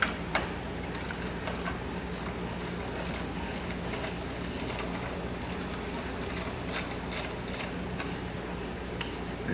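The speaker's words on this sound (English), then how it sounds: "We're going to undo the bolts and hold the radiator fan in place." Socket ratchet undoing the radiator fan bolts on a Mitsubishi Outlander, with quick bursts of close clicking repeated in several runs over a low background hum.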